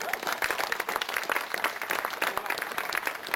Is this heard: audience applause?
yes